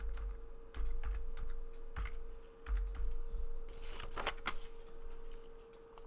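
Someone types a stock name on a computer keyboard, a handful of separate key clicks and taps spread over several seconds, close and fairly quiet against a steady background hum.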